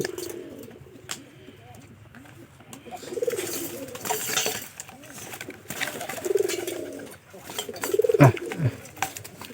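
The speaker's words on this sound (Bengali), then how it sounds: "এই কবুতরটা ছেড়ে দিব" Domestic pigeons coo softly in a loft or coop, with a few low cooing phrases and light wing or body movement, while a person talks nearby.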